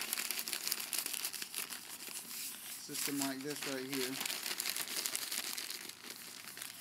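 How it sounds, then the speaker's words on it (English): A sheet is crumpled and rolled into a ring for starting a forge fire, giving close crinkling and crackling throughout while someone talks over it. "and then kind of crumple it up, make it into a ring shape"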